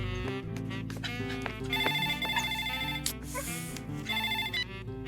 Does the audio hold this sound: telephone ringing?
yes